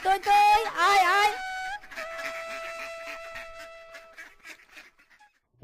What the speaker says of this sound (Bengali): ওরে বাবা, মিসকের হাঁসগুলো তো বেশ নাদুস নদুস